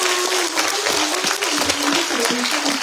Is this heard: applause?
yes